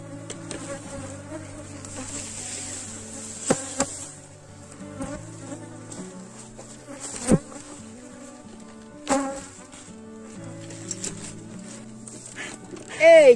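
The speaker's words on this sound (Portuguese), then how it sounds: "Hoje fazer aqui mais uma revisão nesse enxame." A swarm of bees drones around a hive during an inspection, a close, sustained buzzing of overlapping pitches that rise and fall, broken by occasional sharp knocks.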